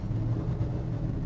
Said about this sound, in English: Going through the gears again. This baby's a blast to shift.